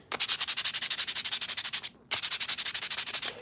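Rapid back-and-forth hand sanding of filler on a clone belt, about fifteen quick, even rasping strokes, a brief pause, then another run of strokes, close and crisp with no talking.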